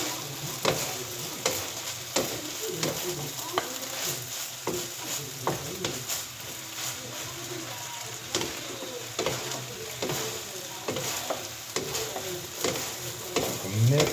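Sweet Thai pork cubes are stirred in a sizzling pan with a wooden utensil, with repeated scraping strokes in an uneven rhythm over a continuous close frying hiss and no talk.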